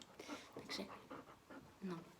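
A small pet dog pants in quick, soft rhythmic breaths close to the microphone indoors, faint and steady, with someone speaking over it.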